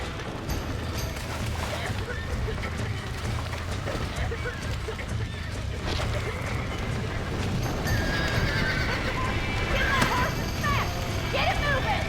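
Horses whinny and hooves clatter at a gallop in the video game Red Dead Redemption, amid a busy mix of noise and raised voices, growing livelier toward the end.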